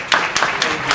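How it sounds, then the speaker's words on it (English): An audience at a launch ceremony in New York City applauds a chief guest, heard as a brief run of evenly spaced, fairly loud claps. "Let's give a big round of applause for Mr."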